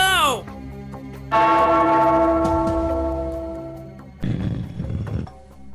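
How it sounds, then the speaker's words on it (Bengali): A bell is struck in a Gopal Bhar comedy film scene, ringing out loud and near with a long, slowly decaying metallic tone, followed by a burst of shouting voices. "ওই ঘন্টাটা বাজাও, বাজাও।"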